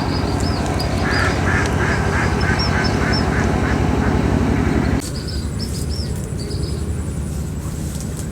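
Ducks on a farm with fish ponds quack repeatedly in short bursts over a loud, steady rumbling background, and the rumble drops slightly partway through.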